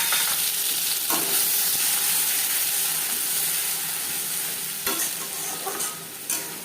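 Whole cumin seeds fry in mustard oil in a pan, a steady bright sizzle with a few sharper crackles and faint stirring scrapes near the end, no voices.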